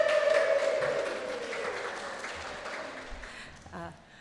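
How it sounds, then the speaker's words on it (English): Applause from the audience greets the jewellery makers at a biennial jewellery award ceremony, a broad crowd clapping that starts strong and slowly thins and fades. "Big applause."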